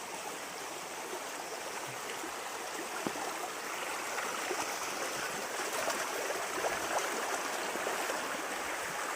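A small village river flows steadily, a dense, continuous wash of running and trickling water with no pauses, fairly close and moderately loud, with no voices over it.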